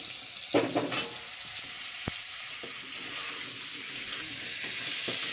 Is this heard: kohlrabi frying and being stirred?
yes